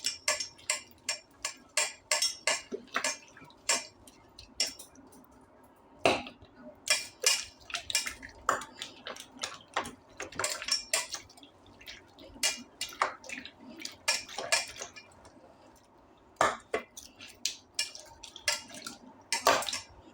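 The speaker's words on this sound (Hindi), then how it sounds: "जब तक फेंटते हैं जब तक ये क्रीम जैसा नहीं हो जाता, जैसे मक्खन हो जाता तब तक फेंटेंगे अच्छे से।" Ghee being whisked by hand in a bowl until creamy like butter for ghewar: quick irregular clicks and scrapes of the whisk against the bowl, close and crisp, with short pauses between bursts.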